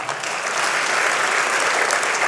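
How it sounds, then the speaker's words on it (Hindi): An audience at an Urdu mushaira poetry gathering breaks into sustained, even applause, a thick wash of many hands clapping together without pause. "पुरजोर तालियां हो जाए इनके लिए"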